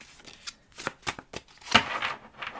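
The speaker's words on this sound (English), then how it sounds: "I didn't do 5 shuffles today." Tarot cards are shuffled by hand in a series of quick, crisp riffling bursts, close and alone, with a sharper flurry midway.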